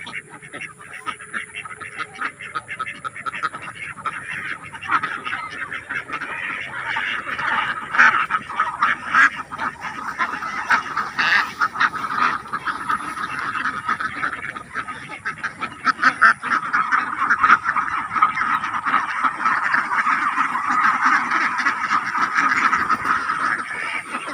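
A huge flock of laying ducks on a farm keeps up a loud, dense chorus of overlapping quacks and honks, close by and unbroken for the whole stretch.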